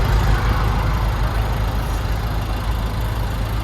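A Peugeot Partner / Citroen Berlingo 1.6 HDi diesel engine idles steadily close by, with a deep, even rumble and faint clattering, and no break in the sound.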